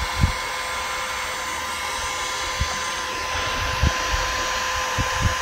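Milwaukee heat gun blowing hot air onto faded plastic car trim, a steady close whooshing fan-and-blower hiss with a constant tone, broken by a few faint clicks and taps.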